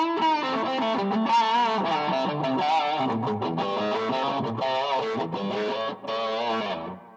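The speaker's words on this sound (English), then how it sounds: "Let's add in a little bit of distortion, and we'll go over to the amp's drive channel" Electric guitar through an amp's drive channel playing chords and melodic lines, loud and continuous, with a gritty overdriven tone throughout.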